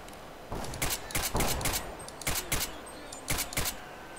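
Gunfire in the video game S.T.A.L.K.E.R.: Clear Sky: several sharp shots in quick clusters, a burst of three or four, a pair, then another pair, loud over a steady ambient bed.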